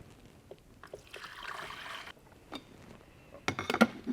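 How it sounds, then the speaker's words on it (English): Water trickles and splashes into the reservoir of an electric drip coffee maker, an uneven pour that swells in the middle, with clinks and taps of handling near the end, close and fairly quiet. "Go ahead and fill up the compartment with the needed amount of water."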